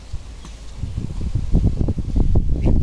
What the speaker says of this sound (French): Il y a peut-être un petit peu de vent.